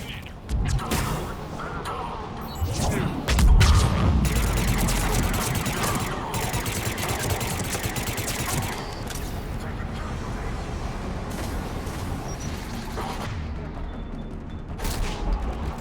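Gunfire in a Mass Effect 3 battle against Cerberus forces: dense, continuous bursts of shots and impacts with a heavy boom early, loud throughout, alongside shouted voices.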